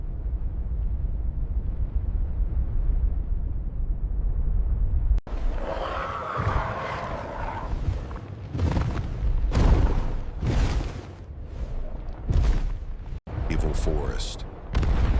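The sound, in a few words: explosions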